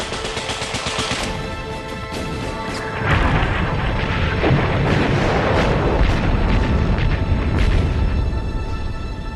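World War I artillery bombardment, with heavy, rumbling explosions rolling in a dense, continuous barrage and a few sharper blasts standing out from the roar.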